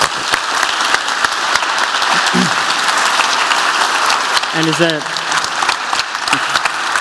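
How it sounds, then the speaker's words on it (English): Audience applause rings out after a keynote talk, a dense, steady clapping that fills the whole stretch, with a brief spoken word and a few short voiced sounds near the middle. "Another round of applause for Jono Bacon."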